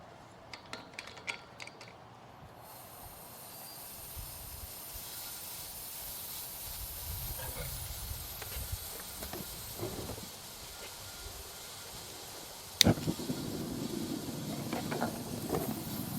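Propane gas hisses steadily through Cast Masters furnace lines as the valves open, a broad continuous rush that builds and holds, with a few faint mechanical clicks and a sharp knock near the end.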